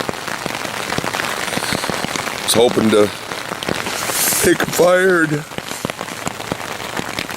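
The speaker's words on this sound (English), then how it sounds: "All it's done is rain." Rain patters steadily at a campsite, a dense crackle of drops on a nearby surface that carries on under someone talking.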